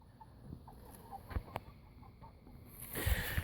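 Soft, scattered clucks from a few chickens nearby in a coop converted from a recycled barn, with faint rustling and a brief louder scuffle near the end.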